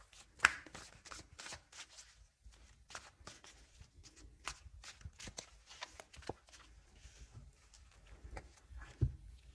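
Tarot cards shuffled by hand in quick, crisp riffling bursts, close and quiet, with short pauses between passes and no talking.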